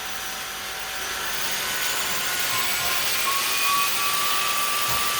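A Moosoo K24 stick vacuum cleaner runs on full power, a loud, steady high-pitched whine and airy roar that holds close and constant without any talk.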